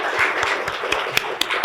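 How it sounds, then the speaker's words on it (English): Audience applause for panelists after a talk on Anishinaabeg perspectives on environmental history, a brief, steady patter of many hands with a few sharper claps standing out. "I think we should give them a big round of applause"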